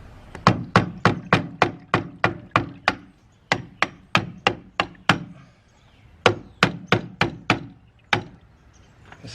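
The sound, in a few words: prying a part off with a screwdriver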